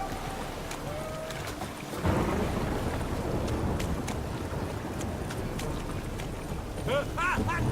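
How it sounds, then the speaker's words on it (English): Rain and rolling thunder in the video game Witcher 3, a steady loud downpour roar with rumbling that swells after the first two seconds, heard alone with no talk. "Rain again."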